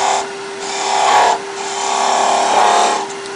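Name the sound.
skew chisel cutting wood on a lathe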